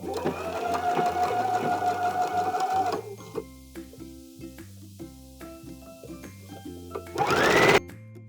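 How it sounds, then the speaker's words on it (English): A sewing machine stitches a seam on a knit infinity scarf, a loud steady whir for about three seconds, then short rhythmic bursts of backstitching, ending in a brief louder burst. "we're going to go over to the machine and sew it up"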